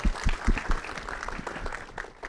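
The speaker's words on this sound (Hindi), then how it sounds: "एक बार बंदा के लिए एक बार जोरदार ताली चाहिए" Scattered applause from a small group at a film trailer launch event, a few distinct claps up front settling into softer, thinner clapping.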